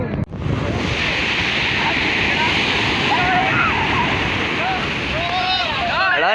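Waves washing and sloshing at Fort Kochi beach, a steady broad wash of surf throughout with some wind, and faint voices and chirpy sounds rising near the end.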